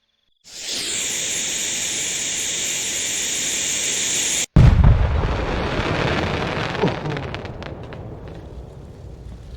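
A firework in the video game Fireworks Mania bursts in one huge nuke-like blast, a sudden loud boom that rumbles and crackles away after a steady hissing fuse-like roar.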